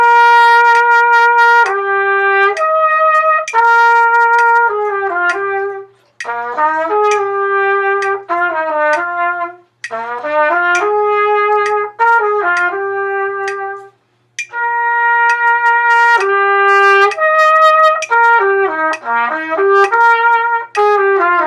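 Solo trumpet plays the opening of the Alabama All-State 2019 etude, a steady phrase of clear, bright notes with short breaths between phrases, close and alone.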